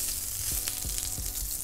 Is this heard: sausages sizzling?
yes